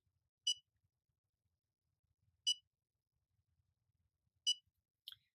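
Three short, high electronic beeps from a radio frequency skin device timer, spaced about two seconds apart in near silence, followed by a brief quicker chirp at the end.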